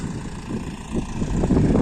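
DTZ 5404 tractor engine running in the field while preparing to harrow, a steady low rumbling drone that grows slightly louder toward the end.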